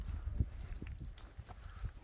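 Horses' hooves clopping outdoors in an uneven walking rhythm, soft to moderate and fairly close, with faint ambient background.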